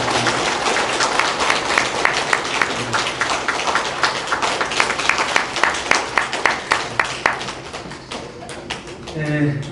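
A church congregation claps for a gift presentation at a pastor's retirement and installation service: dense, steady applause filling the hall for several seconds, then thinning out near the end.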